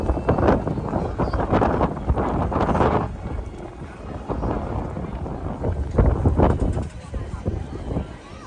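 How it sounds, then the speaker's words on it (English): Strong gusty wind buffets the microphone outdoors at Disneyland's Tiana's Bayou Adventure, a loud low rumble that surges and eases in waves while people talk over it. "It is very windy."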